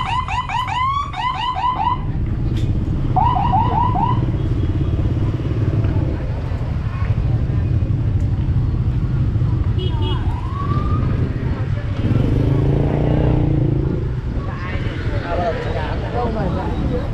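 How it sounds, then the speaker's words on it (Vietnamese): Police mobile unit vehicle siren at a crowded temple festival in Nam Dinh, Vietnam: several short warbling whoops and chirps up front, then later faint sweeps, over heavy traffic rumble, motorbike engines and crowd noise. "Cơ động đang đi bóp còi rồi."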